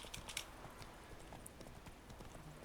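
Roach, Geralt's horse in The Witcher 3 video game, clip-clops along at a steady rhythm, hooves sounding moderately close over a faint ambient game backdrop.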